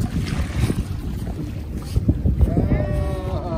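A small motor boat runs back toward a larger ship off the Brazilian coast, its engine droning under heavy wind buffeting the microphone, with splashing and a rising engine whine near the end.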